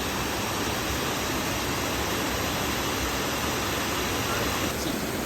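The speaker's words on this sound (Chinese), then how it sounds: "我们到瀑布了" Nelson Falls in Tasmania pours as a steady, even hiss of falling water, moderately loud and constant throughout, with no clear voices over it.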